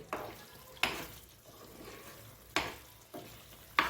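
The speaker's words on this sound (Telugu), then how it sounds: "కొంచెం దీన్ని బాగా కలుపుకొని కొంచెం గరం మసాలా, కొంచెం కొత్తిమీర" Stuffed eggplant and onion masala curry is stirred in a pan, soft oily sizzling broken by a few sharp spoon scrapes against the metal, close but quiet, with no voices.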